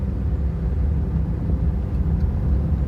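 A scooter engine runs steadily throughout a riding lesson, a low continuous rumble that stays close and even, with no voices over it.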